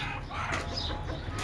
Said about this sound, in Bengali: এই যে দেখেন ওরা এখানে এগুলা কুচা মুরগি এবং একটা মোরগ দিয়ে আটকায় রাখছি।